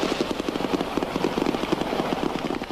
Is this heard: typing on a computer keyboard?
no